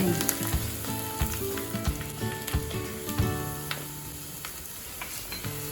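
A tadka of cumin, curry leaves and hing sizzles loudly in hot oil, crackling and spitting close up with sharp pops that thin out as the heat is switched off.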